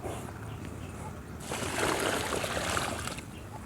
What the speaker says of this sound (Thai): เริ่มแรกผมก็จะเทน้ำใส่หลุมนี้ไปเลยนะครับ